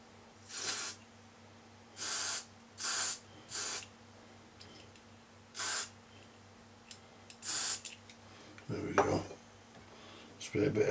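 Short hissing bursts of spray lubricant aimed into the mechanism of a Sony TC-377 tape recorder, about seven quick spurts with pauses between, followed by a couple of clunks from handling the machine.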